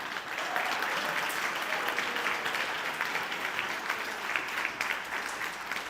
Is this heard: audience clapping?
yes